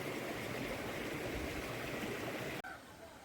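Steady rushing of a clear, fast-flowing stream fed by Gokundi waterfall in Maharashtra, loud and continuous up close before cutting off abruptly near the end.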